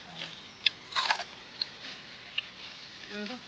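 Crispy fried food crunched during a rainy car-camping trip, giving a few sharp, close bites and brittle crackles spread over a few seconds, with a soft voice briefly near the end.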